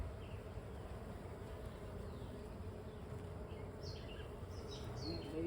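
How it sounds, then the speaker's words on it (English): A steady, dense hum of many honeybees buzzing close by around an open hive, continuous throughout with a few faint chirps above it. "Try not to squish any bees."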